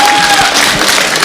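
A concert audience applauds a folk singer, a dense, loud wash of clapping and crowd noise that fills the short moment without a break.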